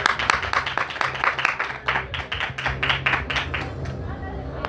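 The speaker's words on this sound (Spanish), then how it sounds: "pido un gran aplauso para Manu Gutiérrez" People at a book fair presentation in Paracuellos applaud author Manu Gutiérrez for his first novel, a burst of clapping with some voices in the room that thins out and fades toward the end.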